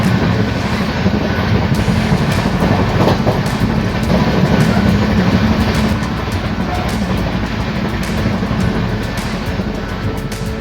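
The 12158 Hutatma Express races through Hadapsar station at high speed, about 130, giving a loud, continuous rumble with wheel clatter and rushing wind, heard from on board.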